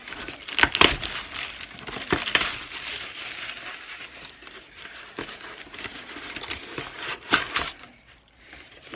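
Cardboard box of a Moebius Robin the Boy Wonder model kit being cut and torn open, with crinkling, crushing and tearing bursts coming close and fairly loud in irregular spurts.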